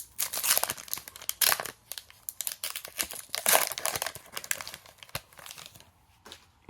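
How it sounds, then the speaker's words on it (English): F1 Turbo Attax trading card packs being torn open by hand: continuous close crinkling and ripping of foil wrappers in irregular bursts, with no talking. "Now we move on to these cards. So let's get them open."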